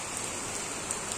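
Heavy rain pours onto a flooded street in Sylhet, a brief, dense, steady hiss of drops close by, with no voices.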